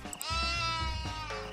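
A sheep bleats in DayZ, one long wavering bleat up close and loud, with a fainter second call at the end.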